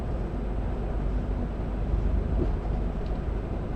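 A Stadler Flirt Class 75 train runs through Norway in summer rain, giving a steady, loud, broadband rumble and roar that holds evenly throughout with no voices.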